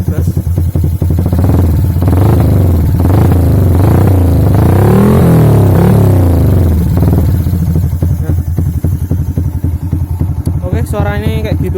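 Yamaha MX King 200cc motorcycle fitted with a WRX RS200 header exhaust, revving loudly and close with a deep, bassy note that rises and falls through several throttle blips; a voice is briefly audible near the end.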